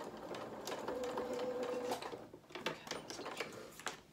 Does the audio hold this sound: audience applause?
no